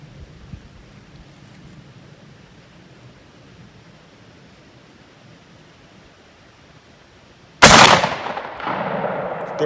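A Mossberg 835 shotgun fires a single slug from a 3-inch shell: one sharp, loud blast near the end that breaks a long quiet outdoor background and rings off in a decaying echo.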